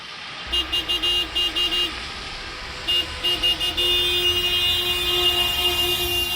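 Car horns honk in repeated bursts during a drivers' honking protest outside the Campinas city hall, Palácio dos Jequitibás, steady tonal blasts with short gaps over a constant street drone, then one long sustained horn note.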